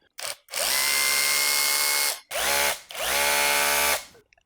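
An SDS impact drill whines loudly in two long bursts with a short blip first, its motor revving up and winding down, with a rattling hammering texture from the impact action.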